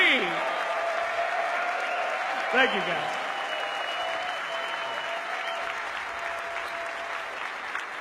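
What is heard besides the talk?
crowd applauding Team OG's Dota major win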